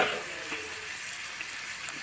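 Spices sizzle in oil in a kadai while cooking a pizza topping, a soft steady frying hiss with a few faint stirring clinks, close and quiet, with no talk.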